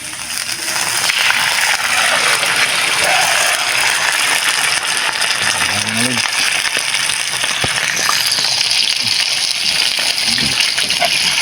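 Water is poured into a cooking pot while making tamaya, a loud, steady rushing gush lasting about eleven seconds with occasional metallic clinks from the pot.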